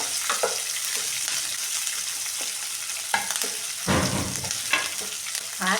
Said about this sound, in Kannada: ಸ್ವಲ್ಪ ಕರಿಬೇವು ಹಾಕ್ಬಿಟ್ಟು ಈ ಥರ ನಾವು ಫುಲ್ ಫ್ರೈ ಮಾಡಿಬಿಟ್ಟು